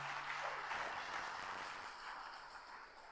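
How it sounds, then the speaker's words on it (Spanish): A church congregation claps together in praise during a sermon, a steady wash of applause heard from a distance, continuous and soft throughout, with no talking. "Dale un fuerte aplauso a Cristo porque Él es bueno."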